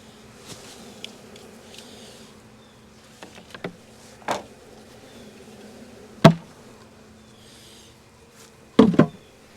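Honey bees from an opened hive with a drone-laying queen in Jacksonville, Florida hum softly and steadily nearby, punctuated by several sharp knocks and clatters of hive equipment.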